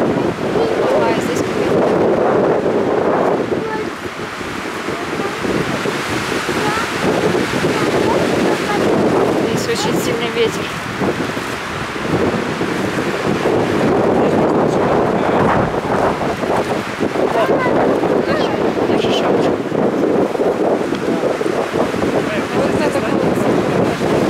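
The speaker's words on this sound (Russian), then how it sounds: "Ветер." Strong wind buffets the microphone in continuous loud gusts, with a rushing, roaring texture that hints at open water nearby, on a hiking trail along the Mogollon Rim near Payson.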